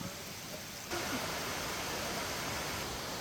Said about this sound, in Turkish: Şelale var. Şelale buradan akıyor.